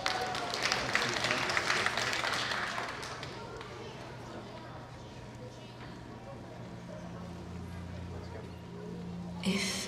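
An audience at a Seattle Chinese Spring Festival gala claps to welcome a young dancer on stage, with loud applause for the first few seconds that fades under a sustained musical tone.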